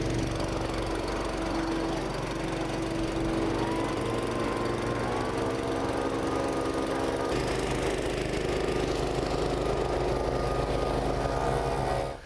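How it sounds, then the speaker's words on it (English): A 10-horsepower gas leaf blower runs at a steady, loud, close drone with a constant engine hum throughout, briefly shifting in pitch midway and stopping abruptly at the very end. "This is a 10 horsepower blower."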